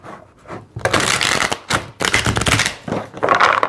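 Tarot cards are riffled and shuffled in quick bursts, crisp papery rattles separated by brief pauses, close up and fairly loud with no talking.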